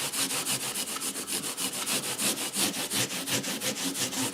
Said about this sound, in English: Finally, I'll use a Scotch-Brite pad.